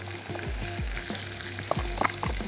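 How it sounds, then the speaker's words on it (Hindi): Salt, turmeric and red chili powder frying in a pan, a close steady sizzle with repeated scraping strokes of a stirring spoon in a quick rhythm. "अब हमने मसाले को बहुत अच्छे से भून लेना"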